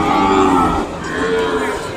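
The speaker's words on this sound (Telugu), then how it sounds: "ఇదిగోండి చూడండి దూడలు." Calves at the Kodada Ongole cattle market in India bellow with drawn-out moos over the noisy bustle of the crowded market, loud and nearby.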